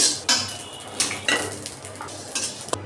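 Dried chillies and five-spice crackling in a pan for pickle, with sharp utensil clinks and scraping stirs over a faint sizzle, close and fairly quiet.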